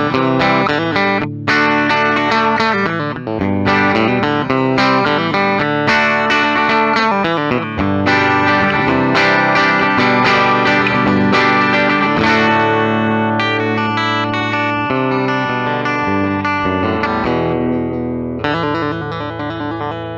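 A 2019 Gibson Firebird I electric guitar runs through an amp with heavy effects and distortion, playing a continuous loud stretch of chords and riffs with chorus and reverb shimmer for about twenty seconds, no talking.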